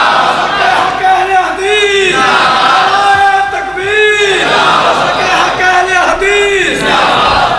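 A large crowd chants religious slogans in loud, rhythmic unison at a Meelad and Wafat-un-Nabi gathering. Sustained, swelling calls repeat in waves across the whole stretch.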